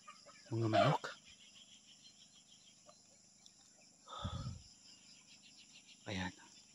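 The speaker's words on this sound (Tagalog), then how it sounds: "Mga manok." Three short bursts of chicken clucking spaced a few seconds apart, close by, with insects chirping faintly underneath.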